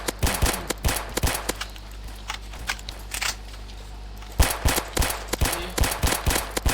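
Gunfire in the Roblox game SCP Tycoon, loud rapid bursts of shots that pause briefly in the middle and then resume, close up and with no talk over them.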